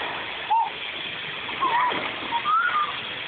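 Water splashing and sloshing as someone jumps in and moves around, a steady nearby wash of splashes with a few brief whistle-like tones over it.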